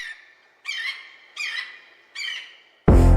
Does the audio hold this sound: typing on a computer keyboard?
no